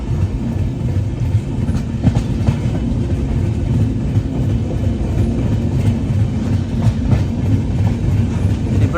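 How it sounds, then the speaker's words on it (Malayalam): A moving express train near Coimbatore, heard from inside an AC 3-tier coach as a loud, steady, close rumble with faint rhythmic clatter from the wheels. No one speaks. "ഇനിയിപ്പോ ട്രെയിൻ സ്പീഡ് എടുത്ത് തുടങ്ങും."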